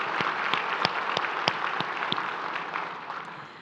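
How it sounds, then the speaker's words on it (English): Conference luncheon audience claps in a fairly quiet, scattered patter, with a few sharper individual claps standing out before it thins toward the end. "Let's give them a big round of applause"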